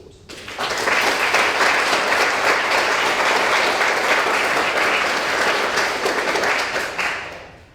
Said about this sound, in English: So I think that also deserves a very large round of applause.